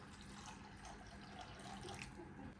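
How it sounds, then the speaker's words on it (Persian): Cold tap water runs steadily into a bowl of thinly sliced onions in a home kitchen, a continuous close hiss and splash with no talking. "یه مقدار آب سرد اضافه میکنیم"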